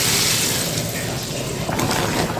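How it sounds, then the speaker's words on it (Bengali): Hot water poured into a pumpkin curry in the pot, a close, loud rushing splash and bubbling pour lasting a couple of seconds, with no speech. "এই গরম জলটা এখন আমি দিয়ে দিচ্ছি"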